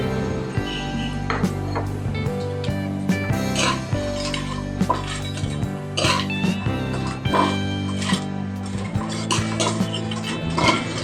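Dried anchovies fry in oil in a pan with a steady close sizzle, punctuated by frequent metallic clinks and scrapes of a utensil stirring against the pan, with no speech.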